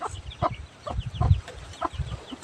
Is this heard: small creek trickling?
no